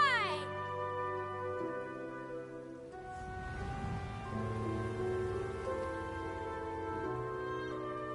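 Steady rain falls in the Genshin Impact video game, a soft broadband patter running under layered orchestral music, with game voices speaking over it.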